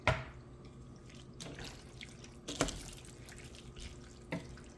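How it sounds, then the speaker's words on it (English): Tap water runs steadily into a cooking pot being filled to cover noodles, with a few sharp clanks and splashes over the flow. "we're going to need some more water in there because you're going to cover them noodles up"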